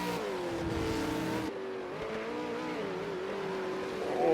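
A V8 Supercar races around Mount Panorama at Bathurst in a video game, its engine droning steadily with pitch shifts through gear changes and a rising rev at the end, close and continuous with no talking.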